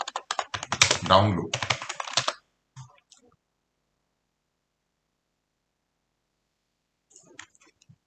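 Rapid clicking of keys on a computer keyboard, close and fairly loud for about two seconds, followed by a few sparse taps and near silence, with a brief burst of typing again near the end; a voice speaks briefly.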